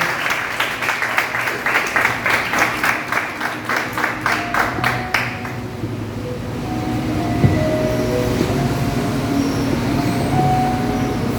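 A church congregation claps for the pastor in a quick, rhythmic burst of applause lasting about five seconds, then it fades into a low, murmuring room hum.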